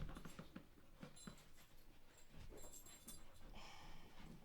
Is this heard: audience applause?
no